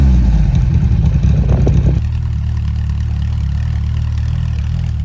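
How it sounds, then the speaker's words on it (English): Exhaust of a Simca 1000 Rally 2 picked up by a microphone at the rear of the car while driving in Spain, a loud, close, low engine drone that shifts to a steadier rumble partway through. "I've fitted a microphone to the back of the car to pick up unadulterated exhaust sound"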